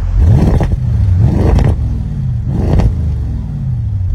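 An Audi RS7 fitted with a Milltek exhaust is revved to about 3000 rpm three times in succession, each loud, close blip rising and falling back to a deep rumbling idle.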